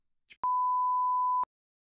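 A single steady electronic censor tone lasting about a second, clean and mid-pitched, preceded by a faint tick and followed by silence.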